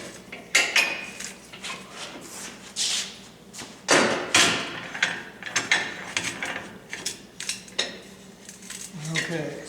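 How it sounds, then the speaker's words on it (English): Metal clamp and parts of a Rogue tube bender cart clank and ratchet in a workshop, with repeated close metallic clinks and scraping knocks scattered across the clip. "I'm going to clamp this one down so it doesn't move around"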